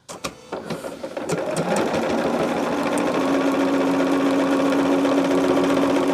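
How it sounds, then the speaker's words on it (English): A sewing machine runs steadily, stitching across fabric to close up a quilt finish, with a constant motor hum and fast needle rhythm after a short start-up. "And just sew this on across on the rest of it."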